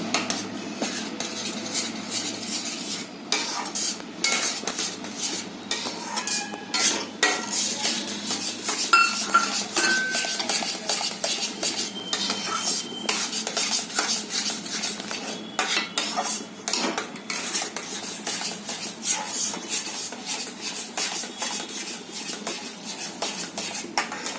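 Powdered sugar ground with cardamom is stirred into a mango mixture for sweet mango vadi, giving steady scraping and clinking of a spoon against a pan that is close and continuous, with no talk.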